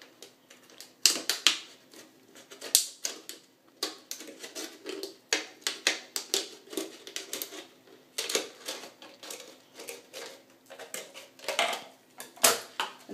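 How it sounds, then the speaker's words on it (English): Close, crisp snipping and crackling as scissors cut through a thin plastic water bottle, a quick irregular series of sharp cuts and crinkles. "And then I use my scissors to go around cutting it."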